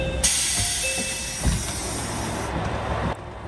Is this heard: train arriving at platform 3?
yes